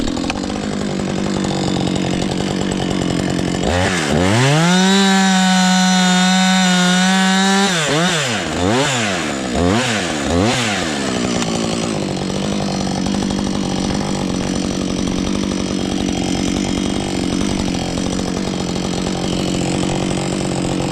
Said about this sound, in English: Not everyone has to cut with a chainsaw.